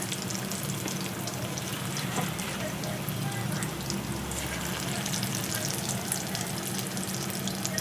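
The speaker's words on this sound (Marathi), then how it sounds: "जेवढे कढईमध्ये फ्राय होतील एवढेच टाकायचे आपल्याला" Chicken 65 frying in hot oil in a wok, a continuous loud sizzle and crackle with occasional stirring, no pauses throughout.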